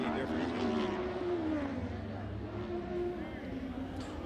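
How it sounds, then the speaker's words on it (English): SR1 race cars on a track produce a continuous, fairly faint engine drone with a rising and falling tone as the cars circle. "you can never beat the sound of an SR1"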